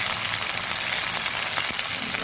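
Chopped potatoes and bitter gourd fry in a pan with a dense, loud, continuous sizzle and crackle, close up and steady throughout, without any talk.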